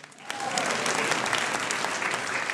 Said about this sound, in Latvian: Aplaus pults nesējam!